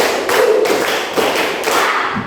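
A classroom group claps a rhythmic 'tepuk semangat' cheer at a fast pace, producing sharp, evenly spaced bursts of clapping close by with no talking.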